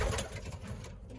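A young racing pigeon, likely a cock, coos softly and closely in a loft, a brief throaty call with no talking.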